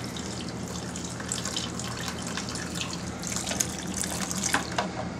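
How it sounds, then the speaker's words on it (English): Star San sanitizer runs out of a homebrew beer line into a pail as a steady, close stream of pouring liquid with light dripping, no voices. "the Star sand is flowing out into my pail."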